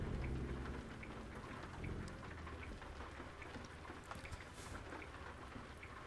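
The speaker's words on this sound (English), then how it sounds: "Got some rain going on now" Steady rain in American Truck Simulator while driving a truck hauling an SCS dropdeck trailer, a continuous hiss of falling drops with a soft low rumble, fairly quiet and with no talking.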